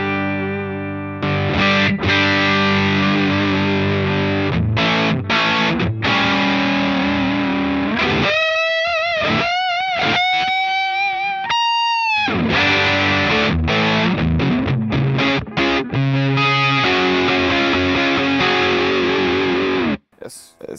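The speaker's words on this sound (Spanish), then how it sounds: "Es una distorsión bastante fuerte." An electric guitar with a humbucker pickup plays through a Xotic AC Booster Comp pedal, giving a loud, heavily distorted tone. Sustained chords, bent single notes and short breaks fill the passage up close, with no voice over it.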